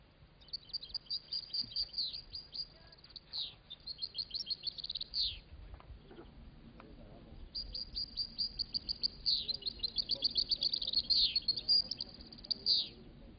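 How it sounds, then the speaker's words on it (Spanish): A goldfinch sings in bursts of rapid, bright twittering trills and chirps, pausing briefly midway before resuming, heard alone over a faint background hum. "A veces es difícil decidir el jilguero campeón de canto, ya que a diferencia del color es muy difícil poder volver a comprobar las notas que haya emitido."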